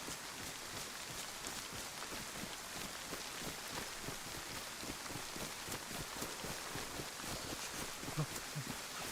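Steady rain falls in a video game, a dense, even hiss of drops on surfaces with no voices over it.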